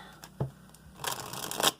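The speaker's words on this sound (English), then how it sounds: "We're going to shuffle that one more time." Quick riffling bursts of a card deck being shuffled, close by, with a short flutter early and a longer crisp ripple near the end.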